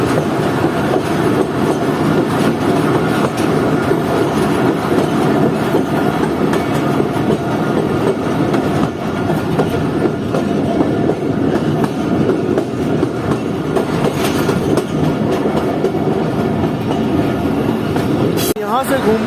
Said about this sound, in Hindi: अब ट्रेन हमारी इस लाइन पर चलेगी